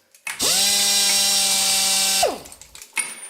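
A powered ratchet wrench turning a 30mm socket on a Ford Fiesta Mk6 whirs up to speed, runs steadily for about two seconds, then winds down, followed by a faint click.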